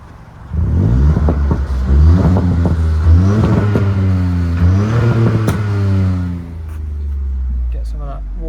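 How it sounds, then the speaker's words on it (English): A parked car's engine is revved repeatedly through its exhaust, several rising and falling bursts with crackles between them, loud and close, settling to a lower idle near the end. "Get a little sound check of the car while we're here"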